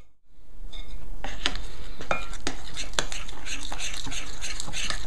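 A spoon scrapes and clinks around a bowl as a thick breakfast mixture is stirred, with repeated sharp strokes in an uneven rhythm, close and continuous.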